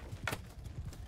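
Horse hooves clip-clop in the medieval battle game Mount & Blade II: Bannerlord, a few close, uneven thuds over a low background murmur, with no talking.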